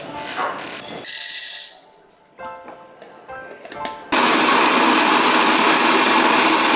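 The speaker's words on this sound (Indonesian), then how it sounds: "Nah, sekarang kita giling si kopinya." An electric grinder grinds coffee beans in a loud, harsh whir that starts and stops in short bursts, then settles into a sustained steady grind.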